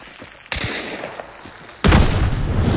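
Two loud booming blasts go off in Hunt: Showdown, a moderate one and then a much heavier, sustained explosion that keeps roaring to the end.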